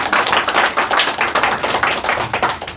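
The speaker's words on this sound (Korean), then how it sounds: "박수로 환영해 주시기" Steady audience applause welcoming a church elder at a presbytery elders' June breakfast prayer meeting, a dense, even patter of many hands lasting nearly three seconds.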